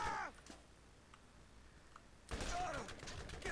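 Gunfire in the video game Borderlands: a quiet opening with faint ticks, then at about two and a half seconds a sudden dense burst of shots that continues loudly to the end.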